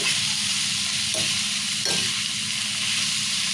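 Onion and red lentil curry sizzles steadily in a pan while being sautéed, a continuous close frying crackle with a couple of soft stirring scrapes and no talk.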